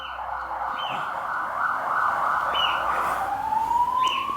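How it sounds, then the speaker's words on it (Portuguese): A police car siren wails as it passes by outdoors, a steady rising and falling tone that holds loud over the street background and then sweeps upward near the end. "Ó barulho de sirene. Ó carro de polícia passando."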